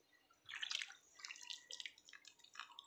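Water drips and splashes as basins are washed, with soft, close, irregular trickles and drops that are faint but steady and have no talk over them.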